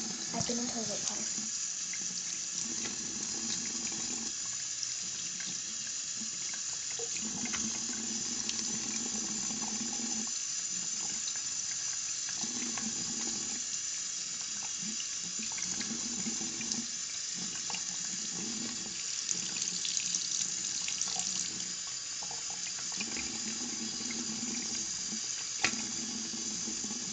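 Cold shower water runs and splashes steadily, a continuous hiss with faint voices speaking intermittently underneath.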